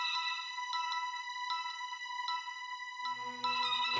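Phone ringtone chiming in a repeated electronic melody, clear and moderately loud, with a brief low hum entering near the end.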